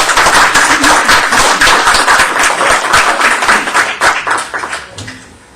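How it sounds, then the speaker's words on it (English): A round of applause at a town board meeting, many hands clapping in a dense, lively burst close by, holding steady for several seconds before tapering off into a few last claps. "how about a round of applause for Aiden?"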